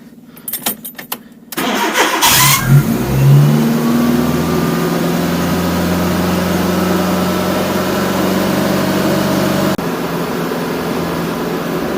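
A turbocharged Fiat Panda engine is cranked, catches, and revs up once before settling into a steady, loud idle with a continuous mechanical drone, heard close with no talk.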